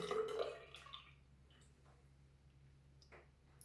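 Water rinsing a glazed ceramic shaving bowl, a brief splashing burst at the start, then sparse dripping and small ticks fading into a quiet room.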